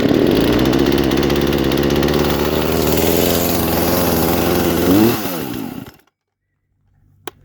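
A Poulan Pro chainsaw that refuses to stay running revs loudly and steadily up close, its pitch wavering before the engine is shut off and dies into silence, followed by a single faint click.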